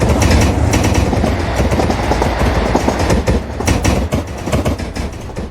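Train in a train simulator video game, locomotive 3748 running on rails with rapid clattering wheel beats and engine rumble, loud and continuous with no talk.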